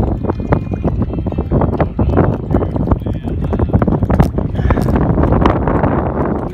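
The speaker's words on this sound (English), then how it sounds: "The wind's blowing extremely hard right now." Strong wind buffets the microphone on a fishing outing in South Texas, a steady rough roar with gusty thumps lasting throughout.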